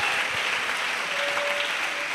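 Steady, dense applause from a congregation gathered in a church hall, giving an ovation to Jesus; many hands clap evenly at a moderate distance, with a faint tonal ring in the background.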